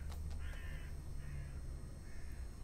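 A raven caws three times in a horror video game, Stigmatized Property, each call a harsh, drawn-out rasp spaced about a second apart over a steady low ambient drone.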